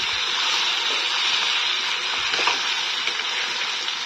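Meat fries in a pan in a village kitchen, giving a steady, dense, hissing sizzle that holds at one level throughout with faint crackles and no talk.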